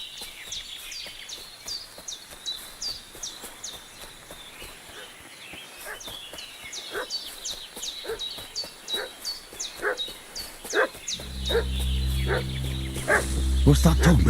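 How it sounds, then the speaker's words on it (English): In the medieval game Kingdom Come: Deliverance II, a dog fusses with repeated high yips, whimpers and barks, faint at first and growing louder and more frequent, joined near the end by a low sustained tone. "What's that dog making such a fuss about?"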